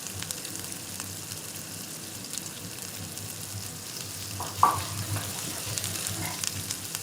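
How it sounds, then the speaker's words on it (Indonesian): Chili, shallots and garlic stir-frying in a hot pan, giving a steady close sizzle with light scraping of a spatula and one sharper clink partway through. "Kita gongso sampai baunya harum ya teman-teman."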